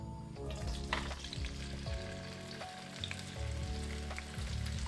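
Taro root (arbi) pieces fry in hot mustard oil, giving a steady, loud sizzle and crackle with occasional stirring clatter throughout, no talking.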